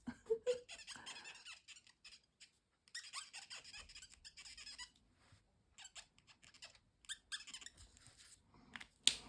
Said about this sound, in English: That's a good noise. A squeaky noise.